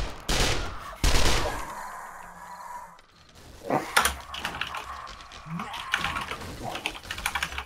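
Gunfire in the video game 7 Days To Die comes in sharp, loud bursts separated by short gaps, mixed with clicky keyboard-like tapping and busy game noise throughout.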